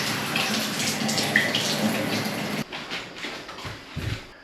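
A household shower running after its lever is pulled down, water spraying steadily and loud for a few seconds, then cutting off abruptly into quieter intermittent splashes and drips.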